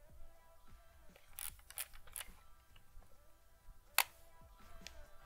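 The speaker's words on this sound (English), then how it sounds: "This is the sound of the shutter." Several small, light clicks of an Olympus XA compact film camera shutter in a quiet room, with one sharper snap standing out near the end.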